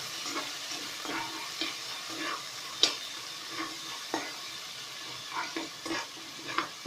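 A ground paste of cinnamon, cardamom, cloves and ginger sizzling in a pan for chicken biryani, stirred with steady scraping strokes and occasional spoon taps over a constant low fry.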